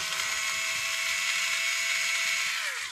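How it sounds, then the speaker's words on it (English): A power screwdriver backing out screws from Schaller M-6 guitar tuners on a peg head: a steady, high-pitched whirring motor whine held for several seconds, close and alone, easing off at the end. "I use my screwdriver a lot."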